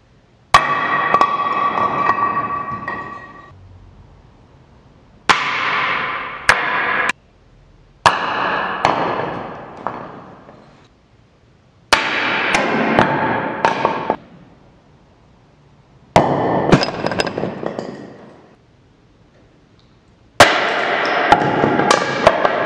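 Climbing holds are dropped onto the ground one at a time in a drop test, giving six separate sharp, loud cracks and clatters with brief rattling after each, spaced by quiet gaps.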